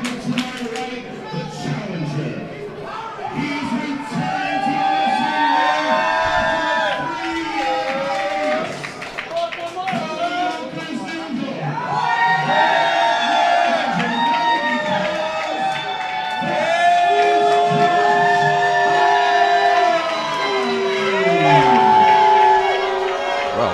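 A wrestling crowd at a BWF Cruiserweight Championship match in the Bronx cheers and whoops steadily, split in its support between two wrestlers, a dense roar that swells and surges throughout with commentators talking over it.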